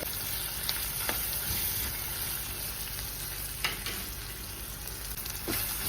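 Hand-pounded ginger garlic paste frying in a pan for tomato rice, a quiet steady sizzle with a few soft stirring clicks and scrapes, no talking.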